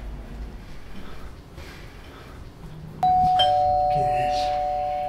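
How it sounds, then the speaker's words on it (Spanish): Late at night, a doorbell suddenly chimes after a stretch of quiet room noise and soft voices, its bright tone ringing on loudly and steadily to the end. "¿Pero quién está tocando el timbre a estas horas?"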